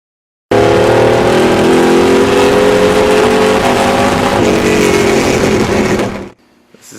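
A 632 cubic inch big block Chevy street engine with 9.5:1 compression revs hard. Its loud, steady roar holds for about six seconds, then cuts off abruptly into near silence.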